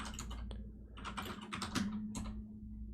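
Typing commands on a computer keyboard: quiet, close clusters of quick key clicks in irregular bursts over a low steady hum, with no voices.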